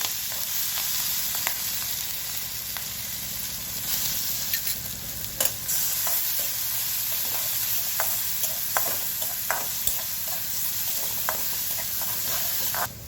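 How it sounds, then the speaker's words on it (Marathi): Cumin, green chili and garlic paste hit hot oil in a pan with a steady, hissing sizzle and scattered sharp pops and spits, close and constant, with no voices. "तेल चांगलं गरम झालं की टाकणार आहे जिरी, हिरवी मिरची आणि लसणाची पेस्ट केलेली आहे।"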